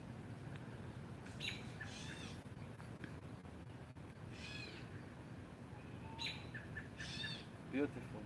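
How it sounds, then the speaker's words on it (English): Faint, high chirping calls of red-tailed hawk chicks come in several short bursts from nearby, over steady outdoor background noise with no talking. "I think he does have babies because I hear them chirping nearby."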